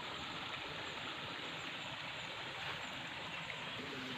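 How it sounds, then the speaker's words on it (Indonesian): A mountain stream flows through a village, its water running straight down from the mountain, giving a steady, continuous rushing and gurgling wash close by with no talk. "ini mah airnya langsung dari gunung"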